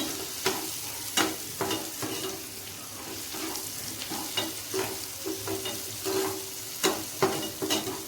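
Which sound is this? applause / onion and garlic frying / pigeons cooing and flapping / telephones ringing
onion and garlic frying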